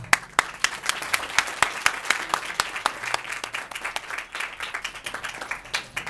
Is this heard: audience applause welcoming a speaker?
yes